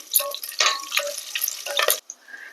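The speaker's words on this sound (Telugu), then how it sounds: "4 పచ్చిమిర్చి వేసుకొని ఇది కూడా జస్ట్ అలా 30 సెకండ్స్ ఫ్రై చేసుకోండి." Green chillies, cashews and cloves fry in hot oil, crackling and spitting loudly up close with spatula movements, then the noise drops off abruptly to a quieter hiss.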